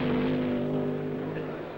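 A fuel dragster engine roars steadily at the 1966 Winternationals in Pomona, a loud sustained drone that eases slightly toward the end, with a voice faintly underneath.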